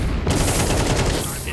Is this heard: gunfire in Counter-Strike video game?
yes